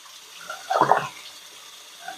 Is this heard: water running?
yes